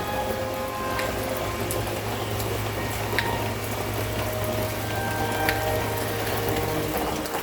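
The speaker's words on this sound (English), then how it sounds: "it decided to pour rain" Sudden downpour falling outdoors in the woods during a hunt: a dense, steady hiss of rain with scattered sharper drop taps, constant and close throughout.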